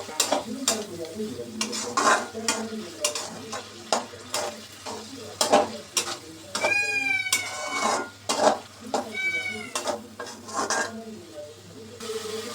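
Ginger, garlic and onion paste stirred and sautéed in a pan for a Chittagong loitta shutki paturi dish, with steady scraping stir strokes over a continuous sizzle and occasional clinks of the utensil against the pan.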